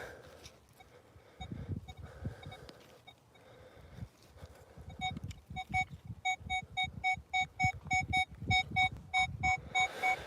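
A metal detector sweeping an old farm field chirps erratically at first, then settles into a rapid run of regular, evenly spaced high beeping tones, loud and close, with no speech.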